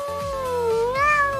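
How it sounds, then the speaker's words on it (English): A single drawn-out cat meow, close and clear, rising in pitch at the end, over faint background music. "It's a cat!"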